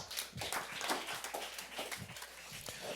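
A church congregation applauds during a sermon, a quiet, dense patter of many hands clapping at a distance with no voices over it, continuing steadily.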